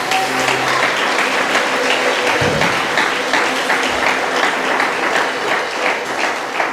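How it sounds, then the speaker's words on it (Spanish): A church congregation applauds, dense, sustained clapping from a crowd that fills the room evenly for several seconds with a brief voice underneath. "Denle un aplauso al Señor"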